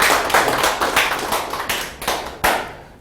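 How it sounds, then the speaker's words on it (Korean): An audience at a lecture claps for a dental clinic director, a dense, loud burst of hand clapping that thins out toward the end, with a few distinct sharp claps standing out. "이영 치과원장께 박수 한번 해주죠."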